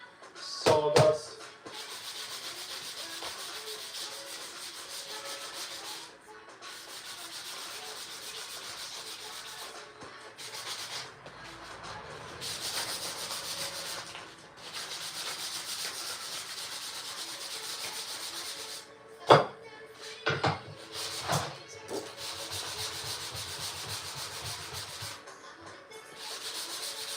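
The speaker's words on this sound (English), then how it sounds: "Some Purple Heart on this side. Need to sand down." Purple Heart wood being sanded for a custom phone stand: continuous raspy abrasive rubbing that runs for most of the stretch, broken by a few short pauses and a couple of sharp knocks near the end, with no voices.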